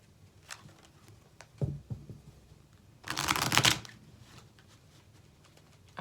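Tarot cards shuffled during a pick-a-card reading: a few soft card taps, then one loud riffling burst of about a second, close and otherwise quiet.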